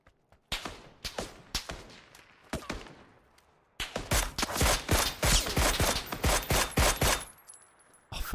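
Gunfire in PUBG on console: a few separate close shots, then a long rapid string of loud cracks, sometimes with footsteps between them.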